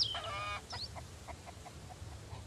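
Chicken clucks and squawks from a barn in the survival game Mist Survival: a sharp, rising burst of calls at first, then soft scattered clucks trailing off over a low background hum.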